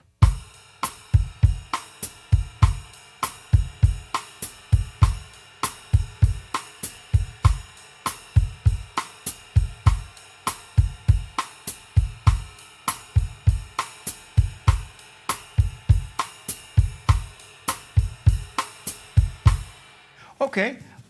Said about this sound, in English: now we've got the 1 bar pattern with the left hand playing the cross stick